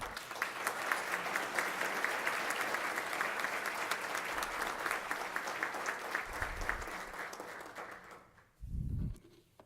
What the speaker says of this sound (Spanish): Demos nuevamente un aplauso a nuestro homenajeado.